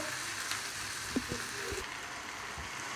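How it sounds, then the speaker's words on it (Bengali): Chicken pieces fry with onions in a pan, a soft, steady sizzle that stays faint and close, with a few light clinks of stirring. "আমার চিকেনটা আমি একটু ভালো করে লাল লাল করে ভাজবো পেঁয়াজের সাথে"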